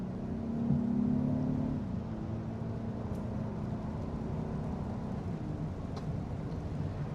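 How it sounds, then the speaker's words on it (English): A 4th-generation Honda Odyssey minivan with high mileage pulls onto the road and accelerates. Its engine rises in a steady low drone beneath broadband road and cabin rumble, heard from inside the vehicle. "We are now going to pull out on the road in the Honda Odyssey."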